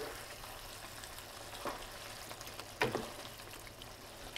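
Sausage and potatoes cook in a pan with a faint, steady low sizzle, broken by a few soft clicks and scrapes near the middle and end, and no speech.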